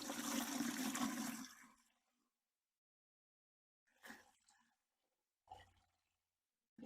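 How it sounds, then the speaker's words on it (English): Water poured into a garden water feature over its submersible pump: a loud gushing pour that fades out after about two seconds, followed by two short splashes and trickles later on. "we're going to get some water and fill above the pump with water"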